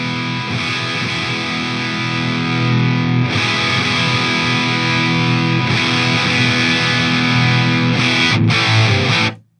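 A BOSS DS-1 distortion pedal drives an electric guitar into a thick, buzzing distorted tone, with sustained chords rung out in three long strums and a final short burst before the sound cuts off abruptly.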